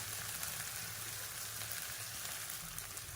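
Ginger garlic paste and curry leaves fry in hot oil with a steady, soft, even sizzle, close but quiet, with no talking over it.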